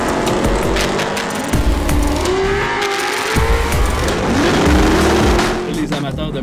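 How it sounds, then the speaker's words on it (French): Modified Ford Mustang GT on a drag strip, its engine droning and revving loudly with rising pitch from inside the car, while a person talks over it. "Je suis présentement à bord d'une Mustang GT."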